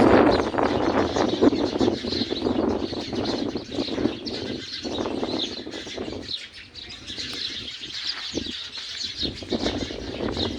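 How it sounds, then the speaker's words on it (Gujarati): Sparrows chirp in a guava tree outdoors. The steady stream of small, busy calls sits over breezy wind noise, with the chatter thinning a little toward the end. "ચકલા કેવા બોલે."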